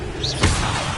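A fire spell cast in the Hogwarts Legacy video game: a brief whooshing burst with a low thump at the middle of the clip, loud and close, over a steady game background.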